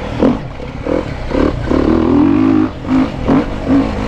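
A 2017 Beta Enduro RR 350 dirt bike with electronic fuel injection revs and accelerates on a dusty track, its engine note rising and falling in repeated surging bursts, loud and close.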